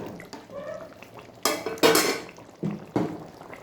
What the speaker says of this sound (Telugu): ఈ స్టేజ్లోనే కర్రీ కలిపేద్దామండి